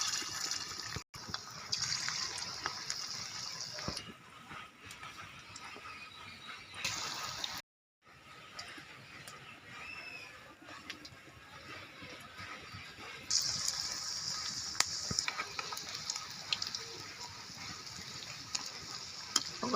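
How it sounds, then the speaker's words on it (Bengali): Pakoras made with goat fat frying in hot oil, giving a steady close sizzle and bubbling crackle that runs throughout, with a short gap of silence partway and brighter hissing near the end. "তেল গরম হয়ে গেছে, এক এক করে পকোড়াগুলি দিয়ে দিচ্ছি তেলের মধ্যে।"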